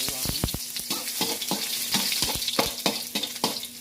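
Garlic sautéing in hot cooking oil for ginisang sitaw, a steady close sizzle broken by rapid irregular crackles and pops, with no talking.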